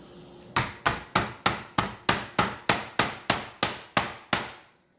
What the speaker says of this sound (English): I'm going to use my stainless steel heavy pan, and all I'm going to do is I'm going to pound it flat